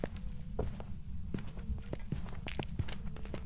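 Ghost footsteps in the horror game Phasmophobia, heading toward the master bedroom: a series of soft, irregular thuds over a low steady hum, moderately near, with no talking.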